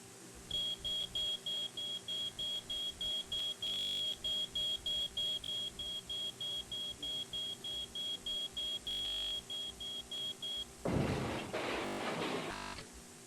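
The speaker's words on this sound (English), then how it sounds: "we went right out and bought a 9-volt smoke alarm with silencer just to see how it works" A 9-volt smoke alarm with a silencer beeps in a steady, rapid series of short high-pitched chirps, loud and close, then stops as a burst of rustling handling noise follows.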